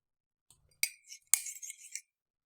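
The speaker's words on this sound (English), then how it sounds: "Is that a spoon in a cup? That sounds like a mug." Two sharp ceramic clinks about half a second apart, each followed by a faint scraping rattle, close and fairly quiet.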